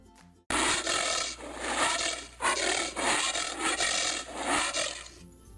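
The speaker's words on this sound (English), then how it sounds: "The giant anteater." A giant anteater calling in a rough, raspy series of breathy bursts, loud and close, pulsing in uneven waves for about five seconds after a quiet start.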